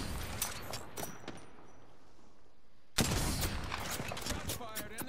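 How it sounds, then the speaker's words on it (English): Gunfire from Apex Legends: a quick volley of shots, then a quiet lull, then a louder, denser burst of firing near the end, with no talking. "Shots fired and they're hitting me."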